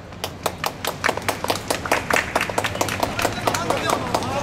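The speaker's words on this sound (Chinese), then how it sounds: "掌声鼓励！" A small crowd claps at an amateur league football match, a steady run of sharp, quick hand claps close by, with voices mixed in.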